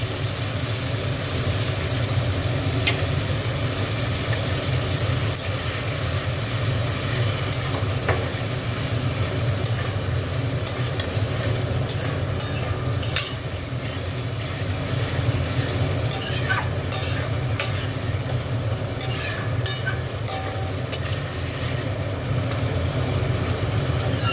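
Egg curry masala being stir-fried in a pan with a splash of water, giving a steady, close sizzle throughout with intermittent scraping clicks of stirring and no talk.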